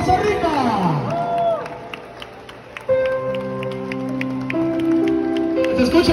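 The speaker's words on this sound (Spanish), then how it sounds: "lo despedimos con un fuerte aplauso monumental" Crowd applause and cheering in an arena during a tribute concert in Poza Rica, broad clapping and crowd noise mixed with sustained music tones and a voice over the top.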